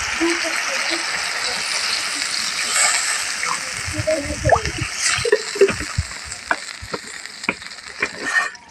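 Water splashes into a pan of fried fish and spiced masala for doi ilish, hilsa in yogurt curry, with sizzling, frying and stirring noises close by and no talk.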